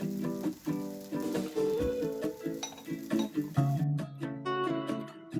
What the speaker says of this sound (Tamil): இப்போ கடாயை 2 பக்கமும் பிடிச்சி நல்லா சுத்தணும்.